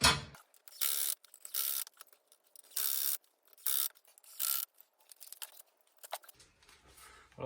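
A ratchet-style torque wrench tightens bolts on a Ford Focus twin turbo V8 project car, giving bursts of fast clicking separated by brief pauses, close and fairly loud, with no voices.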